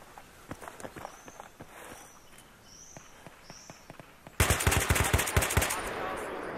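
Unsilenced weapon fire in the Battlefield 3 Squad Rush mode: faint sharp shots crack throughout, then a dense burst of rapid gunfire grows loud over the last two seconds.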